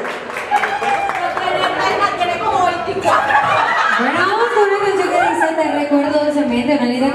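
Audience at a mariachi birthday performance applauds and cheers with scattered laughter and lively chatter, a loud, sustained crowd noise with voices and whoops mixed throughout.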